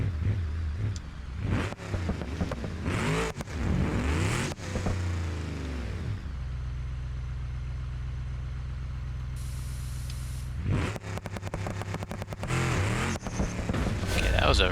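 Engine of a stick-shift car running 500-shot nitrous in the BeamNG driving game, revving and launching hard with a loud sustained roar, shifting and surging again, with a hissing spray burst in the middle.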